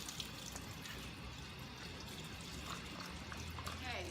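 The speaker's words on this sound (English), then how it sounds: "And now I'm going to give them a rinse with cold water." Cold tap water runs steadily through a strainer of soaked beans, a continuous close splashing rush with little change in level across the few seconds.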